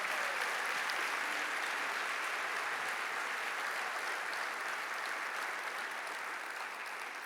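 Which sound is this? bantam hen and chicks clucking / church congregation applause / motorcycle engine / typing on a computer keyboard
church congregation applause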